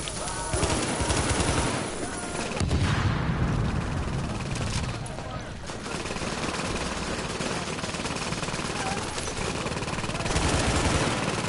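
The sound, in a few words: turret gunfire in the video game Catalepsy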